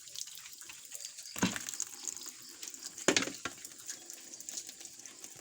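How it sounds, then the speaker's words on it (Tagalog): Water running into a bucket at home, a soft, uneven pouring stream with a couple of sharper splashes or knocks, heard close and alone. "Pupuno po ako ng balde"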